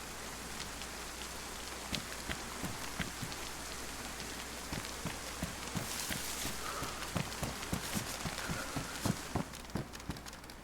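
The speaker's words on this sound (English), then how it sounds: "I think it's been raining almost the whole time we've been on this route." Steady rain falls in the video game DayZ, a dense hiss of drops pattering on surfaces, with occasional sharper taps and footstep-like knocks scattered through it, continuous and moderately loud.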